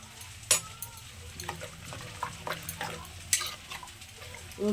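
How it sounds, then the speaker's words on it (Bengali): A ladle stirs lentils and jute greens in a pot, giving intermittent wet scraping and sloshing with a few sharp metallic clinks, close and moderately loud over a low hum, with no talk. "এবার এটাকে একটা হাতা দিয়ে খুব ভালো করে মিশিয়ে দেব"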